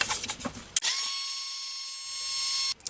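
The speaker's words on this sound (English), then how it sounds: "I'm going to use a heat tool and dry this." A heat tool drying spray paint on a box switches on with a click and blows a steady, loud whirring hiss for about two seconds before cutting off.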